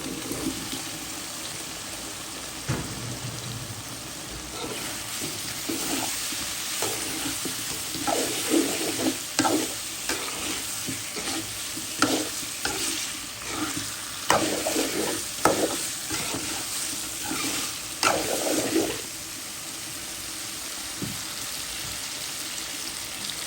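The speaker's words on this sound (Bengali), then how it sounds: "আলুটা দিয়ে দিলাম, একসাথে কষিয়ে নিব।" Potatoes and chicken gizzards frying in a pan, stirred with steady scraping strokes over a continuous sizzle, close and fairly loud, with no talking.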